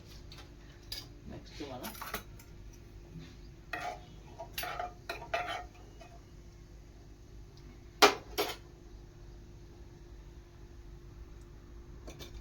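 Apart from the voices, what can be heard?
mustard seeds spluttering in hot oil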